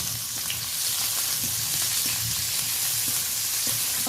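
Onions and green chillies frying in hot oil give a steady, close sizzle with faint scraping stir sounds now and then, and no voices.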